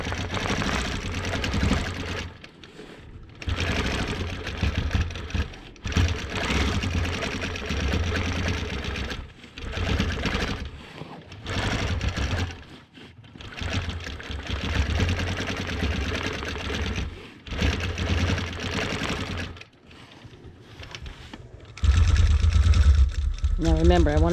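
Quilting machine stitching framework lines on a client quilt, running in repeated bursts of steady mechanical motor hum separated by short pauses, loud and close.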